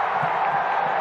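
Hockey arena crowd at a 1989 Milwaukee Admirals versus Wings game, a steady loud roar of cheering and shouting voices that fills the whole moment without any break.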